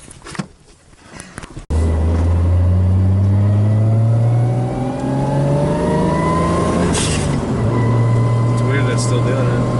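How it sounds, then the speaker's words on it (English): A car with a 1JZ engine running rich on a test drive: after a brief quiet, loud engine noise takes over, rising steadily in pitch as it accelerates and changes gear, close and continuous to the end. "We're gonna go for a quick little test drive."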